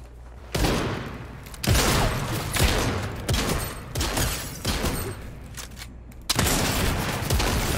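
Rapid Fortnite gunfire rattling in loud, dense bursts that run almost continuously for several seconds, with a brief lull before another heavy volley.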